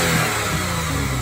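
A car engine on its stock, unmodified exhaust drones loudly and steadily at raised revs, with a raspy, rough, hissy tone, close by and alone.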